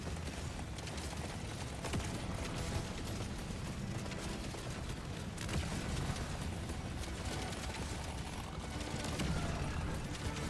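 In the video game Deep Rock Galactic, a lead spray machine gun fires in dense rapid bursts, mixed with mechanical clatter and impacts, sounding fairly quiet throughout.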